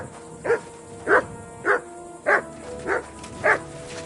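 A dog in the video game Kingdom Come: Deliverance 2 barks six times at a steady, even pace, each bark clear and fairly close, alone over quiet background ambience.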